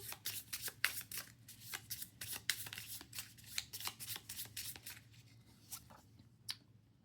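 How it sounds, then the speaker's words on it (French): A discard pile of playing cards being shuffled by hand during a solo round of the board game Kinfire Delve, a run of soft riffling and flapping bursts up close, fairly quiet, with no talk. "On mélange la défausse."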